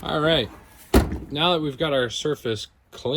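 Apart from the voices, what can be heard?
None of the usual background noises is heard.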